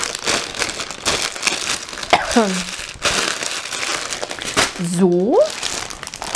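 Plastic packaging bags crinkle and rustle repeatedly while being repacked after an embroidery-supplies unboxing, close and fairly loud, with a person talking over the handling.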